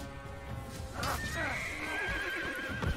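A horse whinnies loudly and shakily in the Assassin's Creed video game, a long neigh over hoof clip-clop and faint background game noise.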